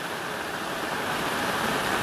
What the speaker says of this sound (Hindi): पानी धीरे धीरे धीरे धीरे बढ़ रहा है यहाँ पे